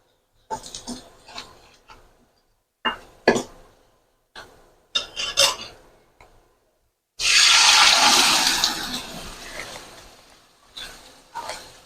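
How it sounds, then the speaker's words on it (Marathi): After several short scraping and clattering sounds, warm water gushes noisily into a pot of dal for a few seconds, then trickles off. "गरजेप्रमाणे आपण याच्यामध्ये कोमट पाणी घालणार आहोत"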